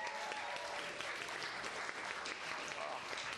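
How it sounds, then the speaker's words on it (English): A spelling bee audience at an adult event claps for a contestant, dense steady applause from a crowd of many hands, moderately faint and unbroken. "let's give a great big clap for Rory again"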